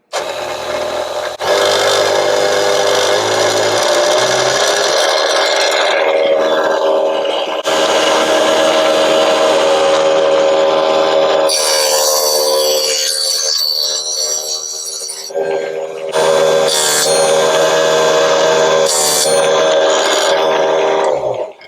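A tiny benchtop table saw running at its fastest speed setting slices small wooden pieces, giving a loud, sustained whine with several cut passes and brief dips between them, no talking.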